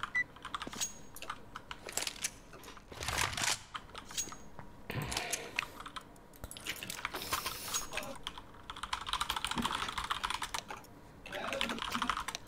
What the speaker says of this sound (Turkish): Sesler geliyor arkadan ama klavye ve nefes sesi benden mi acaba?